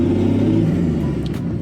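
Toyota 105 series engine fitted with a new turbo and a cut dump pipe exhaust, idling with a loud, steady deep rumble and rough low throb, close up and continuous with no talking.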